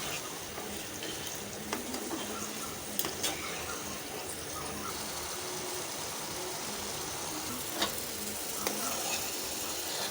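Fish entrails sizzle and fry in a spice paste while being stirred, a soft, continuous crackle with occasional scraping stirs, close and fairly faint.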